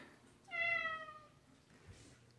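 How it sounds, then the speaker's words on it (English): A cat up in a tree gives a single drawn-out meow, clear but moderately faint, with quiet outdoor background before and after. "That's a tree cat."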